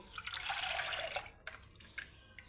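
Milk is poured into a small tea saucepan as a soft, steady liquid stream for about a second, followed by a few faint drips and light kitchen clatter.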